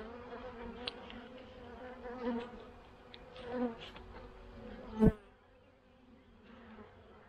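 Honey bees in an open hive during an inspection, with brood frames exposed, make a soft, continuous low buzz, with a few louder passes of single bees flying close by and no talking.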